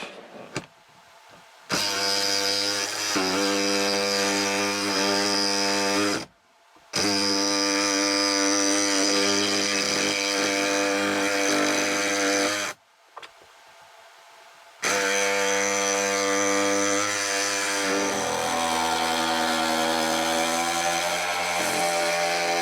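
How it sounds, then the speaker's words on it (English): A jigsaw cuts a vent opening through the wall of an off-grid cabin, loud and close with a steady whining buzz in long bursts. The saw stops briefly twice between passes, with no talking. "I should be able to get the rest with the jigsaw outside."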